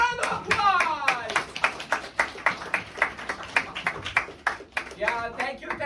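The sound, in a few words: round of applause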